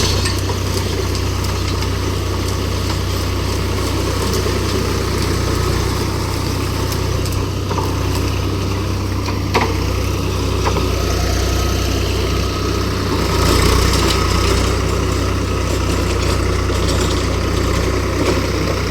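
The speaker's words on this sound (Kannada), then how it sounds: "ಇವಾಗ ಗಾಡಿ ಕಾಣಿಸ್ತಾ ಇರ್ಬೋದು ನಿಮಗೆ ಹೆಂಗೈತೆ, ಸ್ವರಾಜ್ F35FE" Swaraj F35FE tractor engine running steadily in a coconut plantation, a loud, continuous low diesel rumble with constant vibration and only slight changes in tone, heard close up with no talking.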